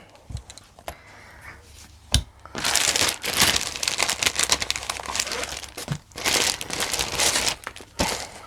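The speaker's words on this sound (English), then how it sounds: "Sorry about the rustling." Cross-stitch projects and bags handled close by, giving loud crinkling plastic rustles in several bursts with brief sharp knocks between them.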